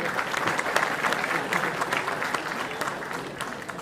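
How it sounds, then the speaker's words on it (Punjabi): An audience applauds at an International Punjabi Cinema Day event in 2024, a sustained burst of many hands clapping in a hall, fairly loud and steady and slowly tapering. "ਸੋ ਆਪਣੇ ਲਈ ਵੀ ਤਾੜੀਆਂ ਇੱਕ ਵਾਰੀ ਫਿਰ ਤੋਂ ਮਾਰ ਦਿਓ"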